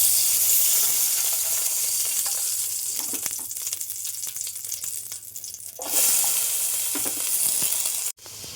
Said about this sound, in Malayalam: നെയ്യിൽ ഈ പപ്പായ ചെറുതായിട്ടൊന്ന് വഴറ്റിയെടുക്കാൻ പോവാം കേട്ടോ